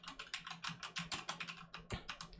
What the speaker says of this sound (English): if it would still pick up those keyboard clicks